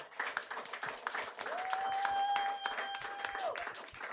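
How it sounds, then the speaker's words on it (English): Audience applause for a panel, a scattered round of clapping from a modest crowd, fairly faint, with a steady tonal whistle or feedback ring sounding briefly in the middle. "Let's give them a round of applause."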